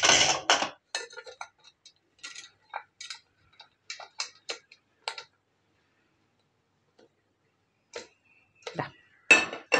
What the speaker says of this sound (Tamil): அதுக்கு குக்கரை வைப்போம்.